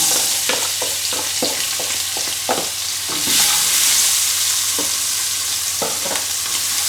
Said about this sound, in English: And cook these onions through for about 3 or 4 minutes until they start to just soften slightly